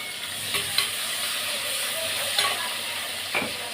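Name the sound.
onions and curry leaves frying in a pan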